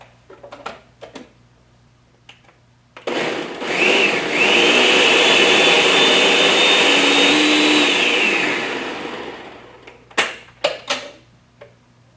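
A blender pureeing baby food with juice and water whirs loudly for several seconds, its motor spinning up and running steadily before winding down, with quiet clicks and handling noises before and after.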